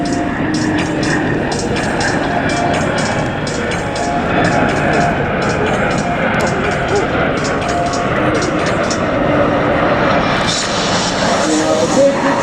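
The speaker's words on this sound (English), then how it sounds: "One aircraft coming from my left. This is the leader and his wing is." Patrouille de France jets fly a display at the Duxford air show, a continuous loud roar of jet engines rumbling across the field while a commentator talks over the public address throughout.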